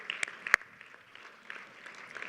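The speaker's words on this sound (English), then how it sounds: "Let's give them a round of applause." Sparse, light applause from a dinner audience at a photonics for quantum event, thanking a sponsor; a few scattered claps with one sharper clap, fairly quiet and thin.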